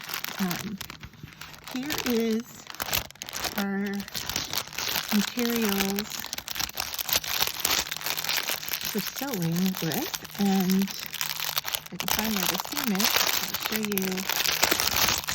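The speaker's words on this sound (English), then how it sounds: "Sorry for the crinkly noise." Plastic packaging of a cross stitch kit crinkles and rustles almost continuously close by, while a person talks over it at a steady pace.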